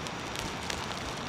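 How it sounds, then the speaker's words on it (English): Freezing rain falls on a Toronto city street during a snowstorm, a steady, even hiss of drops and ice pellets striking the pavement with no voices. "the snow has been replaced by freezing rain"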